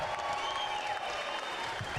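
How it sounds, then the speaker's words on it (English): Applause for both boxers after a ten-round championship bout between Claressa Shields and Hanna Gabriels fills the arena, a steady, dense wash of clapping and crowd noise lasting throughout at moderate loudness. "Applause for both of the fighters in this ring"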